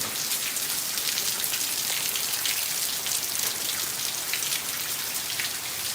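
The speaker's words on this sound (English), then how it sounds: "it's raining good" Steady, heavy rain pouring down without a break, a dense hiss of drops hitting surfaces close by, with no voices.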